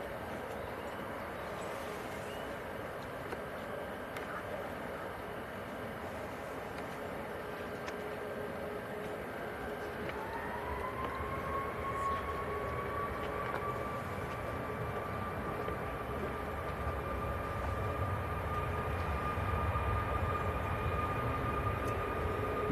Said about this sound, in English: Looks like both Saudi and Qatar both ready to taxi out together.